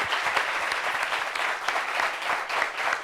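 Audience applause greeting a guest introduced at a gathering: a dense, steady wash of many hands clapping close by, sustained at an even level throughout with no voices over it.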